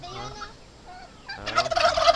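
A turkey at a Christmas party gives a brief gobble, a low burbling call followed by a louder rapid rattling burst, heard nearby and alone for about two seconds.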